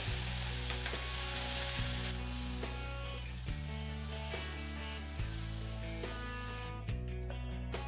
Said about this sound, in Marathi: हा पूर्ण मसाला आपल्याला चांगला भाजून घ्यायचा